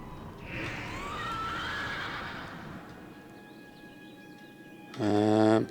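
A horse mount in World of Warcraft gives a loud, clear whinny with a rising and falling pitch, then a few soft hoof clops and a short burst of game sound, with no talk.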